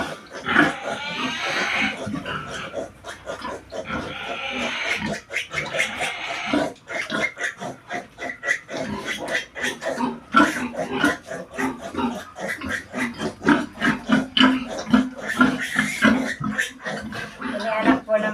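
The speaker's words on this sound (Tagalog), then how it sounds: "Inianak po ng baboy ay 8," Pigs on a farm grunt and oink steadily in a dense, continuous stream of rough snorts, fairly close, with people talking over them.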